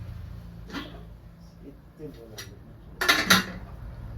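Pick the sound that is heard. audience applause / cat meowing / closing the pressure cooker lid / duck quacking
closing the pressure cooker lid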